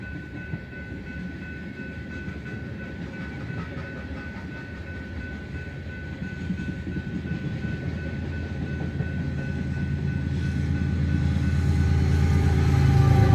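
A BNSF train rolls through Detroit Lakes, Minnesota on the Staples Subdivision, a steady rumble with faint clickety-clack of cars that swells louder and closer toward the end as the trailing engine nears, with no talking.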